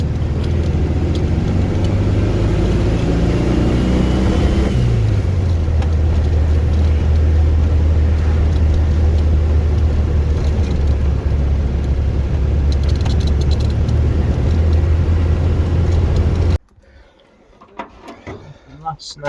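A 1969 VW Beetle engine idles in a steady, low, even drone with a faint mechanical rattle, holding the same pitch for most of the stretch before cutting off abruptly near the end.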